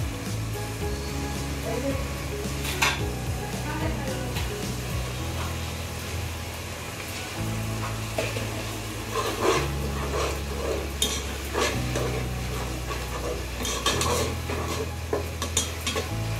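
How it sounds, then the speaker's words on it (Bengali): Spice paste stirred and fried in a pan, a continuous soft sizzle under repeated scraping and clinking of a utensil against the pan, close and steady throughout. "এই যে মশলাটাকে একটু কষিয়ে নিলাম।"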